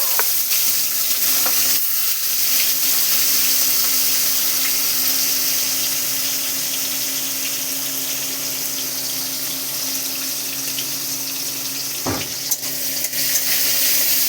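Shrimp sizzle and fry steadily in a pan with five-spice seeds, a close, continuous crackling hiss with one brief clatter partway through.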